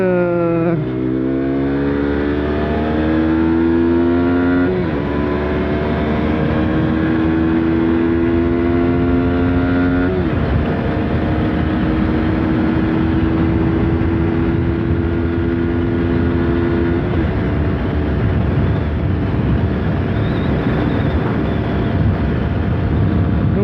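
A 2017 KTM RC 125 with ABS being ridden, its single-cylinder engine revving high and climbing through successive gear changes, loud and close under steady wind roar.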